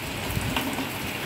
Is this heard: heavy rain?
yes